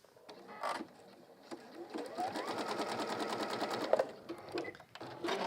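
Sewing machine stitching a zigzag seam for a hemisphere pin cushion, a steady rapid mechanical whirr that runs for several seconds and starts and stops briefly, moderately close with no talk.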